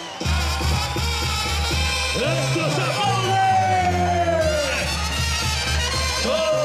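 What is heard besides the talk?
crowd applause and cheering at a rodeo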